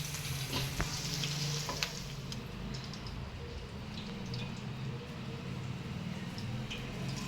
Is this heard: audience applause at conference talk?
no